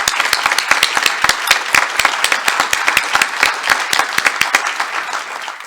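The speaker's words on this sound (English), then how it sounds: "It deserves an applause." Loud, sustained applause from a crowd at a Rotary Foundation Day meeting, with dense overlapping claps and sharp individual hand claps standing out throughout.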